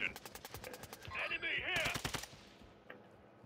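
Rapid automatic gunfire in a video game rattles in a fast, loud burst, followed by a second volley and a single trailing shot, with players talking over the action.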